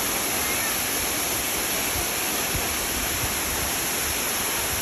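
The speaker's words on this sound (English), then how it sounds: "Wonderful, wonderful waterfall." Khun Korn waterfall in a protected park near Chiang Rai, Thailand, rushing in a steady, dense broadband roar that stays constant and fairly loud throughout, with no voices.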